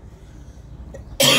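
A single close, loud cough bursts out at the end after a quiet room tone.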